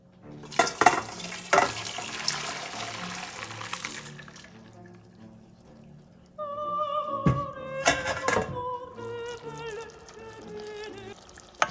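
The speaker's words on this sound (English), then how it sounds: "Now what you do is you take them from the water and you strain them." Cooked pasta being strained, water pouring and draining with clattering pot and colander knocks, then a running-water rush with a shifting tone and more metallic clunks, no talk.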